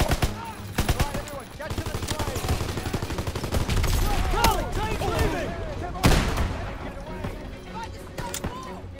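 Heavy combat gunfire in Call of Duty WWII during a fight off a train, bursts of rapid automatic fire mixed with single cracks and a big blast near the end, loud and close, with shouting voices over it.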